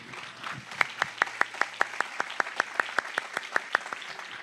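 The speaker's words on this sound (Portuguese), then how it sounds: "Você pode aplaudir ao Senhor por essa palavra." A church congregation applauding after a sermon, heard as crisp, evenly spaced claps in steady unison rhythm, about five per second, over a low murmur of the room.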